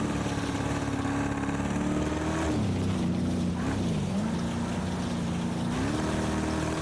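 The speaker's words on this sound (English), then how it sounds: "this engine does sound kind of sick" An IMSA race car engine in a racing video game drones steadily on a dirt track, its pitch dipping and climbing as the throttle eases and picks up again, with no talk over it.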